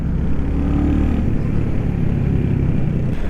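A 2023 Royal Enfield Hunter 350 motorcycle filtering through city traffic gives a loud, steady engine rumble up close, continuous with no break.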